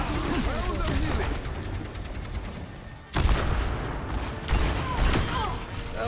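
Dense, continuous gunfire and ability sounds fill a team match of Overwatch on the Kings Row map, loud and sustained with sharp bursts after a brief dip, under chatter from players.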